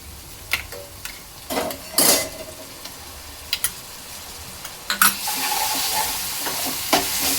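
Onion and a green paste of ginger, garlic, pepper and chili sautéing in a pan, sizzling under clattering spatula strokes and scrapes, the frying swelling louder near the end.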